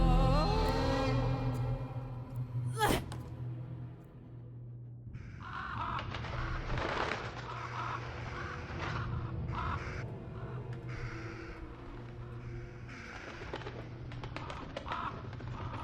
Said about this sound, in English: What are all these cages doing here? They're filled with birds.